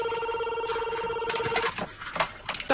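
An office telephone rings in repeated electronic trills for over a second, then stops as clattering handling sounds and faint voices follow.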